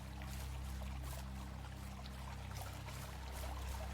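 River water flowing steadily through a game world, a continuous broadband wash with soft trickling detail over a low steady hum, close and even throughout.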